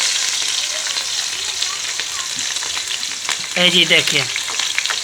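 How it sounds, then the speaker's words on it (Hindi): Spices fry in ghee with cauliflower in a pan, producing a loud continuous sizzle and crackle; a voice speaks briefly near the end over the frying. "तो हम गोभी पका रहे हैं, ऐसी आवाज़ आ रही है। ये जी घी भी डाल दिया है,"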